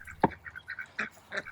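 Runner ducks foraging in an orchard give a string of short, nasal quacks, one louder burst near the start followed by several softer calls spaced irregularly, fairly close and without talk.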